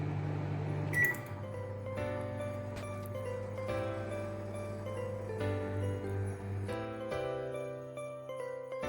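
A microwave oven set to convection mode hums steadily with a low drone while baking a chocolate cake, with button beeps and clicks near the start and a few changes in the tone partway through, and no talking.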